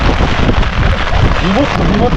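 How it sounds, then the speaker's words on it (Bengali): Heavy rain and strong wind on a river fishing boat during a storm, a loud continuous roar buffeting the microphone, with faint voices underneath. "বৃষ্টিও পড়ছে প্রচুর বৃষ্টি পড়ছে"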